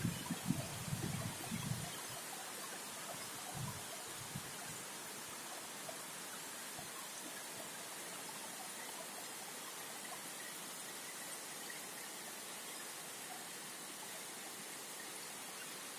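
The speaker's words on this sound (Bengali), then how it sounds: "বৃষ্টি হইতেছে বাহিরে।" Steady, faint rain hisses outside as a constant soft wash of noise, with a few muffled knocks near the start.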